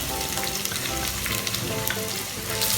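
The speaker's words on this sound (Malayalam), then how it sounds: "ആദ്യം അങ്ങോട്ടങ്ങ് വഴറ്റാം" Coconut pieces sauté in hot oil with mustard seeds for a Kerala-style beef roast, a steady close sizzle and crackle with occasional pops and scraping, no voices.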